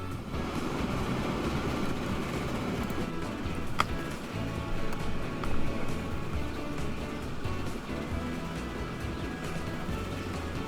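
A train runs along the main line in a railway video game, a steady rumbling roll with rhythmic clicks over the rails, continuous and moderately loud, with no talk.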